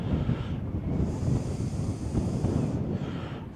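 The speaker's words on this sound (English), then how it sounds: "You can hear the wind blowing now on the mic." Strong wind buffets the microphone outdoors at Hornsea on the seafront beside the arcades, a loud, continuous low roar that swells and eases over a few seconds with no voices.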